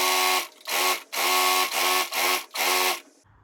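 A sewing machine joins two pant pieces in six quick motor bursts, each loud and close, with short pauses between them.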